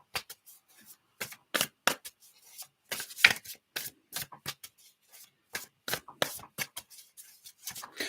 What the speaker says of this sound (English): Let's give these cards a shuffle.